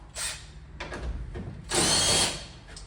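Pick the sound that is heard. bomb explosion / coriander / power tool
power tool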